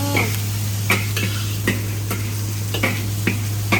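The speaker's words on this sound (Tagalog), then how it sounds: "Hindi ako sanay halo-halo ng isa lang ang sandok." A ladle scrapes and knocks against a cooking pot of fried rice, a series of sharp irregular clacks and stirs, close and fairly loud, over a low steady hum.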